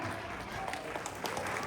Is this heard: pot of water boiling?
no